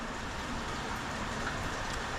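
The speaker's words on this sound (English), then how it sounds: "it started to rain pretty heavily" Heavy, steady rain pours down on a forest section of the Appalachian Trail in Cumberland Valley, Pennsylvania, a dense unbroken hiss of drops on leaves and ground that stays loud and close for the whole stretch.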